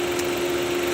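A 2021 Ford Bronco Sport base trim with a small turbocharged 3-cylinder engine idling, a steady close hum with a constant tone and no other sound.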